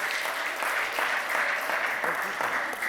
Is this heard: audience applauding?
yes